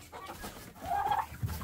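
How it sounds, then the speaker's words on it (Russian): Roosters and hens on a small farm cluck close by, with a rising squawk in the middle and short fowl calls near the end, and no one talking. "это уже петухи пристают к курам"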